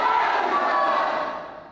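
A large crowd gathered for a singer roars and cheers loudly in a dense, continuous wash of voices that tapers slightly at the end.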